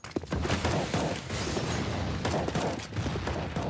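Grenades and gunfire in a Counter-Strike match on Mirage, a busy barrage of sharp gunshots and bursts layered over a steady rumbling din, dense and continuous throughout.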